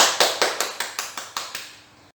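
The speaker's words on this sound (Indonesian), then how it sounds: "tepuk tangan dulu dong Bu untuk kita semua" About nine sharp claps in a steady rhythm at a child protection training session, crisp and fairly close. They fade slightly before stopping abruptly.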